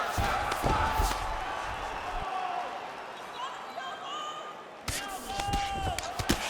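A simulated UFC 5 arena crowd keeps up a broad cheering roar, with sharp thuds of strikes and slams punctuating it, while a commentator's voice speaks over the noise.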